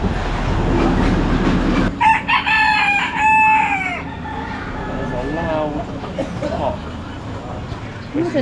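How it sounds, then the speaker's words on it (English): A rooster crows loudly over steady low traffic noise, with speech mixed in at times. "Chicken."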